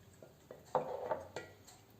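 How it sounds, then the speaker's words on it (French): A liquid mixture is stirred in a container while making Ormus, heard as a handful of quiet clinks and swishing knocks in an uneven rhythm, close but faint, with no voices. "On va bien mélanger."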